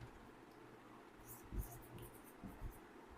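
Faint writing on a board during an English grammar lesson, soft scratchy strokes in short bursts at low level, with no clear speech over them.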